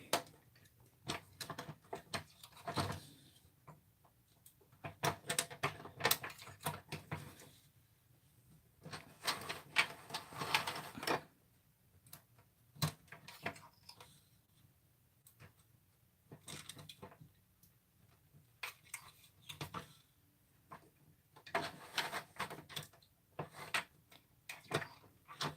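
Mattel toy knitting machine worked by hand, giving bursts of light plastic clicking and ticking that come and go in irregular runs with quiet gaps between, close by and fairly faint, no talking.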